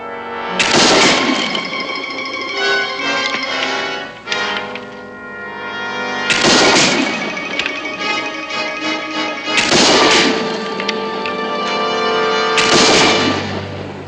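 Rifle shots ring out in four loud, sharp blasts spaced a few seconds apart. Each blast leaves a long ringing tail in an outdoor frontier setting, with no voices between the shots.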